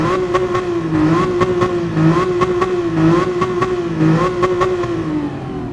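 A loud car engine in the video game Gran Turismo 7 revs in a steady, wavering drone with rhythmic rises and falls, joined by repeated sharp clicking pops.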